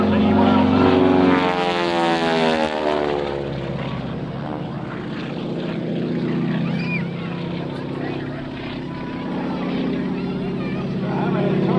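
A propeller aircraft flying aerobatics at an airshow sweeps past with a falling engine drone, then keeps up a distant, steady hum while a commentator talks over it.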